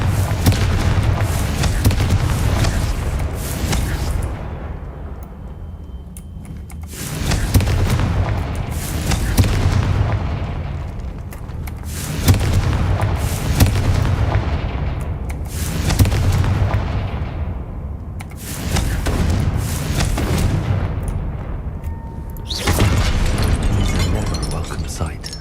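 Fiery Confringo blasts from the Hogwarts Legacy spell, five heavy booming explosions spaced roughly every five seconds, each a loud wide burst that rolls off into a rumbling tail, with a voice speaking among them.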